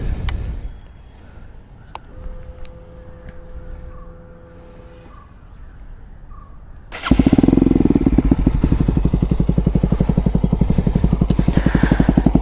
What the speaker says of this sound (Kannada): ಓಕೆ, ಇವಾಗ ಗಾಡಿ ಸ್ಟಾರ್ಟ್ ಮಾಡೋಣ.